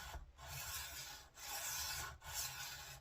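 Knife blade sharpened on a coarse whetstone, three rhythmic gritty rubbing strokes with short pauses between, close and fairly quiet, no talking.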